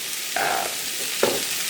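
Chili powder sizzles steadily in a hot pan with a constant loud frying hiss, broken by two short scraping strokes of stirring.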